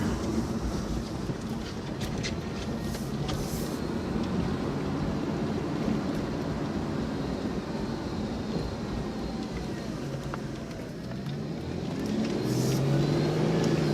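Audi B5 S4 on a test drive, with steady broadband road and engine rumble sustained throughout, some wind noise, and a slight swell near the end as the car pulls harder.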